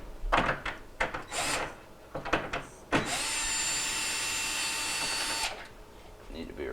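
Clicks and handling knocks come first, then a power driver whirs steadily for a few seconds, removing 1/4-inch screws from the drain tub of a Whirlpool refrigerator freezer.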